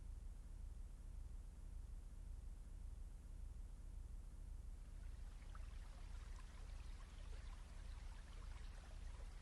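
Cool stream water flows steadily for the whole stretch, a soft continuous wash that grows brighter and more trickling toward the end, with no voices.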